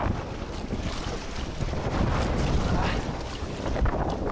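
Gusty wind roaring across open water, buffeting the microphone in surges from a kayak, with faint splashing underneath.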